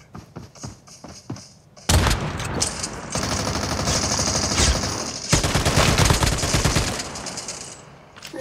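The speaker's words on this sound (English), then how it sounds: "I can hear a ton of gunfire" Dense gunfire from a Call of Duty match, with rapid automatic bursts and heavy shots overlapping in loud sustained volleys after a quieter start.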